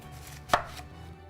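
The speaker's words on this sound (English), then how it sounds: "I'm going to take just the root end and the stem end off of that onion and cut it into quarters" A knife cutting through an onion on a board gives a single crisp chop, close and clear over a quiet background.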